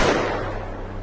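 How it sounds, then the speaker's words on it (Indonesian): A police officer's pistol shot in a Korean drama, a single loud sharp blast right at the start that fades away over about a second, heard on its own. "Polisi langsung menembakkan pistol dan menyuruh semuanya untuk diam."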